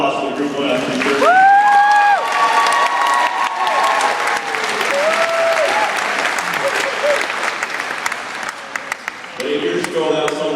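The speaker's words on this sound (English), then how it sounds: "how about a round of applause for the group going out to New Jersey?" Sustained audience applause at a school sports opening ceremony, dense and loud throughout with some cheering, while amplified voices and tonal sweeps ring out over the crowd.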